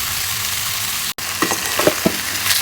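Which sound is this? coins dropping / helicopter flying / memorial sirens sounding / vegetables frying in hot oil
vegetables frying in hot oil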